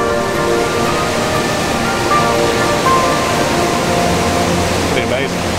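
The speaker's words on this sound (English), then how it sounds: "the sound of the water is so loud" The waterfalls at Iguazu Falls give a loud, steady roar of rushing water, a dense wash of noise that fills the whole clip without letting up.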